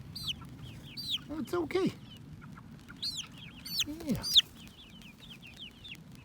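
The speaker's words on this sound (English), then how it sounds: "He's a good chicken." Chicken named Forrest clucking close by on a farm in short bursts with higher chirps, while someone speaks softly to calm him.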